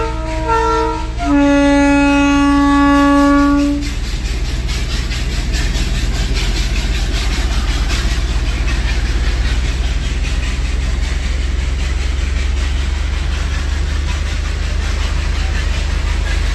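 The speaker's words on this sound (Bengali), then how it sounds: "ট্রেন আসছে" A loud train horn blares in two-tone blasts, then a train rumbles and clatters steadily past in the Darjeeling hills, close and continuous.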